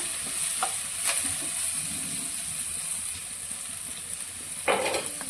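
Onion frying in oil for a tempering with curry leaves, a steady close sizzle with a few sharper spits and stirring scrapes as it cooks.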